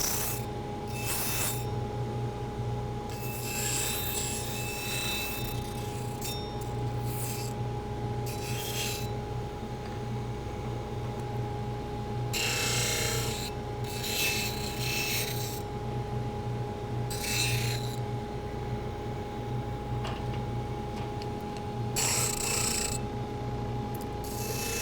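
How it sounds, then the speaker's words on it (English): Small wood pieces are sanded by hand in a home workshop, with repeated short rasping strokes over a constant low machine hum, close and fairly loud. "Now I'll sand them"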